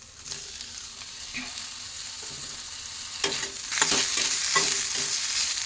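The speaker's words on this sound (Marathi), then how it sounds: "बारीक चिरलेला टॅमॅटो घालू" Finely chopped tomato fries in a pan with a steady sizzle that swells louder partway through, while a spoon stirs with scraping clatters, heard close and alone.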